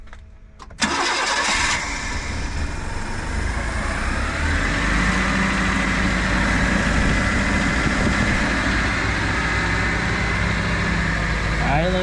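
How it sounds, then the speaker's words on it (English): A Mitsubishi Bravo's fuel-injected engine cranks briefly and catches, then settles into a steady, even idle heard close up for over ten seconds, with a quick mechanical clunk near the end. "Let's start it up, I guess, while we're back here."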